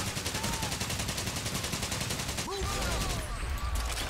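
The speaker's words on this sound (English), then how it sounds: "That was a grenade." Combat in Medal of Honor: Pacific Assault, dense continuous rapid gunfire followed by a heavy low-end boom from a grenade explosion, with a faint voice briefly over the battle.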